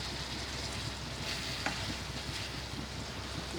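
Peshawari boti meat frying with tomatoes and green chillies in a pan, a steady close sizzle with faint stirring scrapes throughout, no talking.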